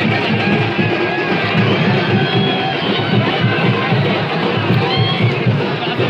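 A crowd mills around a statue at a Bhim Jayanti gathering on Nashik Road, a continuous outdoor murmur of many voices and movement with scattered calls rising above it.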